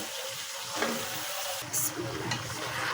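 Cauliflower stems and winter vegetables fry and sizzle steadily in a pan while a spoon stirs them, with a few brief scraping clicks and no talk.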